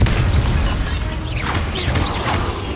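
Confringo fire spell in Hogwarts Legacy: a loud, continuous rumbling blast with crackling bursts, dense and close throughout, no talking over it.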